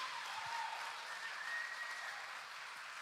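Applause from a church congregation fills the whole stretch as a steady, moderately distant wash of clapping, with no voices standing out.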